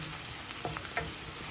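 Green chillies and onions frying in hot oil for a rohu fish curry with beans, potatoes and tomato, giving a steady soft sizzle throughout with a few faint stirring clicks and no speech.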